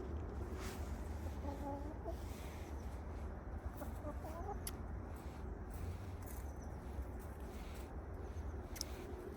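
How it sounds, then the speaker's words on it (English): Clucking from a backyard chicken comes through faintly as a few soft bursts, low under a steady outdoor hiss in a cold winter garden beside a pomegranate tree. "Chicken here wants it too."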